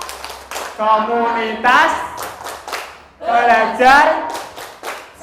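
A group performs a rhythmic 'kobra' clapping chant at a community learning session, with sharp hand claps mixed into loud, close chanting voices.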